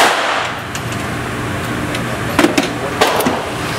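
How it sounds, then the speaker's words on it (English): A GSG5 .22 rifle test-fires at an outdoor range, a few sharp cracks standing out near the end over a loud steady background of wind or ambient noise. "So with that, I'm going to go ahead and do some test firing."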